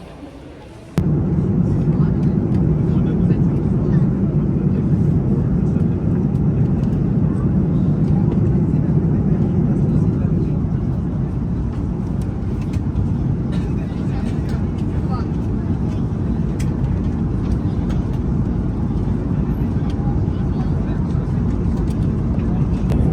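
Steady low cabin drone of an airliner in flight, a constant broadband rumble filling the background throughout with no voices.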